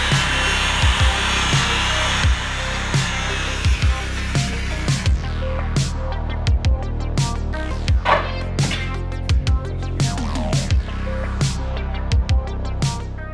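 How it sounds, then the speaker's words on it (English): Power saw cutting through the front bumper of a Toyota Tacoma during an overland build, a loud steady motor whine with repeated sharp bursts of cutting and impacts throughout, no talking. "It's time to cut the front and back bumper."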